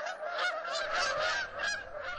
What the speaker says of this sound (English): a flock of very noisy geese